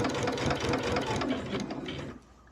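A sewing machine runs steadily, stitching two rows of a jelly roll rag quilt together, a close, busy mechanical whir that slows and quiets near the end.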